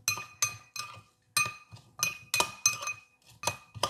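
Pickled vegetables tossed with sugar and vinegar in a glass bowl, a run of sharp clinking taps as the utensil strikes the bowl in quick irregular bursts, close and alone.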